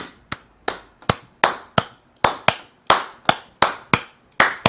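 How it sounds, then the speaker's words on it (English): Hands clap in a steady beat, about a dozen sharp, close claps spaced evenly with brief quiet between them and no talking. "Clap to the same beat as I am."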